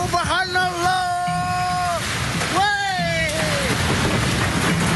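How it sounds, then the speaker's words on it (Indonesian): Heavy rain driven by strong wind roars as a steady wash of noise, with voices shouting and calling loudly over it throughout. "Inilah video amatir saat hujan deras disertai angin kencang tiba-tiba menerbangkan atap bangunan"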